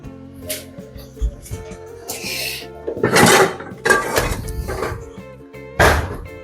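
A pan meant for roasting cashews and coconut pieces in ghee clanks down among other kitchen utensils, with a series of sharp metallic knocks and scrapes, close by.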